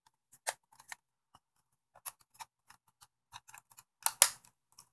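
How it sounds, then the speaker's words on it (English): A memory card pushed back into a Canon PowerShot A70 digital camera: small, quiet plastic clicks and snaps close up, ending in a firmer click as it seats. "Now we shall put the memory card back in."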